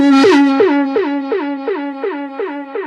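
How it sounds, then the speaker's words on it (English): A Space Echo tape delay feeds back on itself, a bright pitched tone that sweeps down and repeats in regular echoes about every third of a second, each repeat slowly fading, loud and alone. "If you go loud enough, it starts feeding back."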